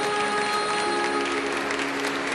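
Applause from a congregation in the cathedral of Nossa Senhora da Piedade, a dense, steady wash of clapping filling the reverberant space, with an organ or sustained tone sounding underneath.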